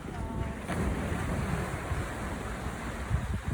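Ocean surf at a beach in Busan rolls as a steady broad wash of waves, heavily mixed with wind buffeting the microphone, with no clear talk.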